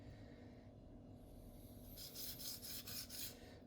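A knife is sharpened freehand on a stone, giving a few quiet rasping back-and-forth strokes over a low background hum, the scraping growing clearer toward the end.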